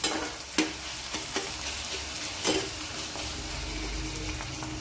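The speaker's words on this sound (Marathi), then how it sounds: "आता कांद्यासोबतच आपण हिरवी मिरची टाकून घेतलेली आहे, कांद्यासोबतच हे दोन्ही छान असं परतून घ्यायचं आहे।" Onion and green chili sautéing in a pan for egg bhurji, a steady sizzle with several sharp spatula scrapes and stirring knocks, close and alone.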